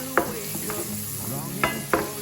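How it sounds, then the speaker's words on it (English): Onions and carrots frying in unsalted margarine in a pan, a steady close sizzle with a few sharp stirring scrapes and clinks of a utensil against the pan. "In a separate pan, we're going to be heating up some unsalted margarine. We're adding some onions, carrots."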